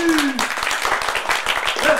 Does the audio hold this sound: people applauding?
yes